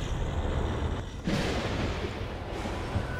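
Gunshots in the horror video game The Evil Within, with two sharp shots about a second apart over a dense, noisy game background.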